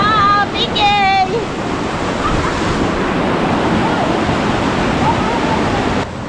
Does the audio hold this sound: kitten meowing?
no